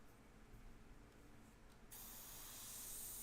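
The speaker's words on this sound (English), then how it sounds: "go ahead and test it. Make sure the airbrush is working" Airbrush test spray for portrait painting: a near, steady, loud hiss of air and paint that bursts on about halfway through and holds evenly to the end, with no voices.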